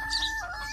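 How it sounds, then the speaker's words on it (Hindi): Chicks and chickens chirp and cluck in a brief close-up burst of high, thin calls over a steady background hum. "सारे प्यारे प्यारे चूजे आ गए"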